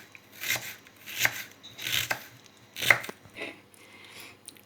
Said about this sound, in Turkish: soğanımızı da doğradık